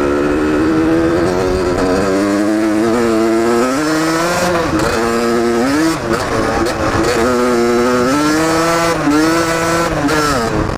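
A 1985 Honda CR125 two-stroke dirt bike engine is heard while riding, loud and close, revving up and down through the gears with a raspy, buzzing tone that rises and falls continuously.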